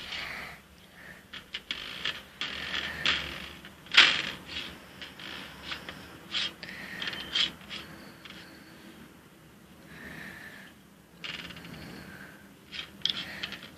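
A spoon stirs a mixture of egg, detergent and cooking oil in a bowl, giving faint, irregular clicks and scrapes with no voices.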